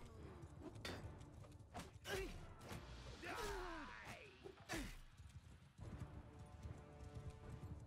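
Hooves of a horse clip-clopping in the video game Mount & Blade II: Bannerlord, with mechanical clanks and a brief whinny-like cry amid battle noise, moderately close and fairly quiet overall.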